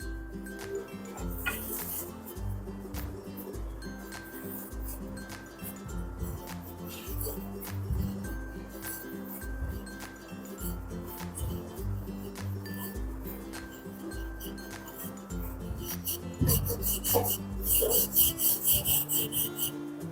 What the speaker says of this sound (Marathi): आता याला लाटून घ्यायचं आहे.